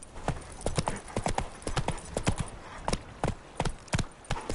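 Horse hooves in The Witcher 3 clip-clop in a brisk, even rhythm of distinct close hits on hard ground, loud and continuous with little else around them.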